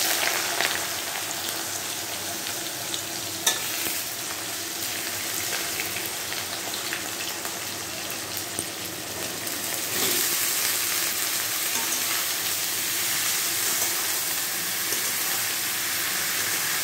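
Chopped snake gourd (chichinga) fries in a pan with bay leaf, giving a loud, steady close-up sizzle and crackle that grows slightly stronger partway through.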